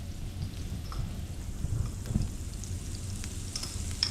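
Garlic and shallot sizzle steadily in a hot pan, a dense crackling hiss with scattered pops, close and continuous with no voices.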